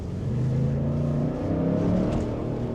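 The twin-turbo engine of a 2026 Lincoln Navigator Black Label accelerates with a steady, full low drone and rushing road noise that stay loud throughout, with no talking.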